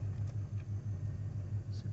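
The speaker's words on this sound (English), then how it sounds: "Oh my gosh, lots of cars here." Cars moving past at a busy nature reserve, a steady low rumble of engines and tyres at a moderate distance with no clear individual pass-by.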